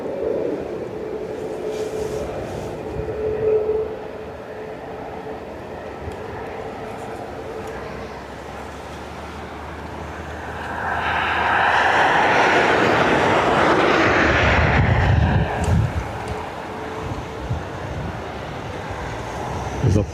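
A Ryanair airliner arriving at Dublin Airport from Zakynthos, a broad jet roar swelling from a distant hum to a loud, sustained rush at its peak before easing off again, with no talk over it.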